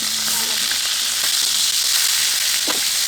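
Steak patties and peppers fry in a hot pan with a loud, steady sizzle and crackle, broken by a few soft clicks and stirring sounds, with no talk.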